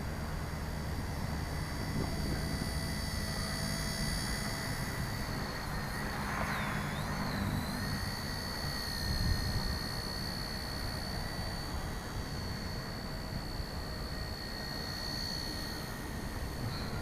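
A Blade Nano CP X small RC helicopter flies outdoors at dusk against the wind, a thin high motor whine wavering in pitch over steady wind noise throughout, with no voices.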